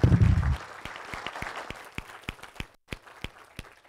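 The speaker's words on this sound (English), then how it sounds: "can we give Judith a round of applause for all she did" At a coaching education session, a small group gives scattered, sparse clapping after a brief low thump. The distinct individual claps are fairly faint and slow down as the clapping dies out.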